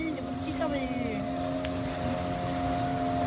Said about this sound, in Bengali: স্পিডবোট।